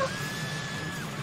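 A female scream from the vehicular combat game Twisted Metal Black, a single sustained high cry lasting about a second over game noise.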